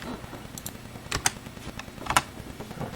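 A computer keyboard is typed on while setting up a Raspberry Pi 4, with scattered quiet clicks and a few sharper key presses over a soft background, no talk.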